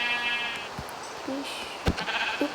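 Minecraft sheep give a couple of short, thin bleats a second or so apart over a low background murmur.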